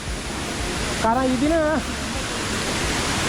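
Iguana Rock Falls in Cheppukulam, Idukki, gives off a steady, even rush of falling water, with a brief voice speaking over it midway.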